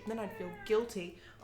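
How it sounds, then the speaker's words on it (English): A pet cat named Lulu meows a few times nearby, woven in and out of steady conversational speech that runs throughout. "That's my cat"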